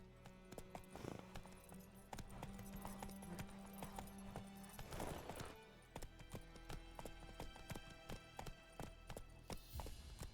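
Horse hooves clip-clopping in the game The Witcher 3, a brisk run of sharp, evenly spaced knocks over quiet background ambience, soft overall with a brief rustling burst midway.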